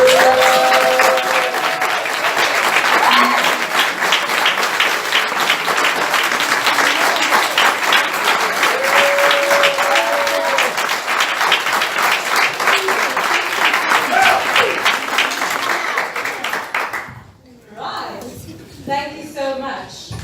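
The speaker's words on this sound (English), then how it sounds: "please rise and help me leaders give a round of applause to our members" Sustained, loud applause from a standing audience honoring members at a club division conference opening, thick and even for about seventeen seconds with voices mixed in, then cut off abruptly before speech takes over.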